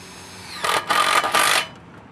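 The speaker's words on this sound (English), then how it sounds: "This is how you notch the fascia out to go around your overhang tails." A power tool notches steel fascia on a pole barn lean-to to fit around the overhang tails, letting out three loud, harsh, high grinding bursts in quick succession, close and alone.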